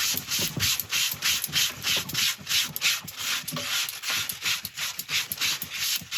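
Yorkshire Grit abrasive is pressed against a resin-inlay woodturned bowl spinning on a lathe, making close, rhythmic rubbing and scratching strokes over a constant high motor hum.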